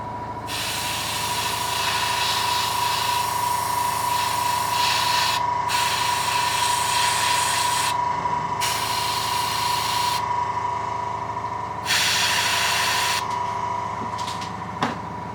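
An airbrush sprays green food colouring through a stencil onto a decorated summer cookie, a loud, close, continuous hiss that cuts off and restarts in several long bursts over a steady background hum.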